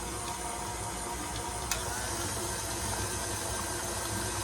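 An electric mixer whirs steadily through cheese ball ingredients, a constant even motor hum with a faint hiss and one brief click, close and alone.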